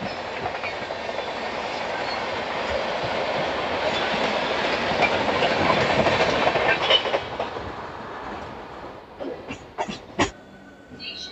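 An early-morning superfast EMU local running at speed between Mecheda and Howrah fills the air with a loud, steady rumble and wheel clatter, swelling midway, then thinning into sharp, separate clicks near the end.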